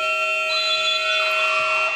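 A long, steady electronic buzzer sounds at a women's college basketball game at the end of a timeout, a loud sustained tone held for the whole stretch.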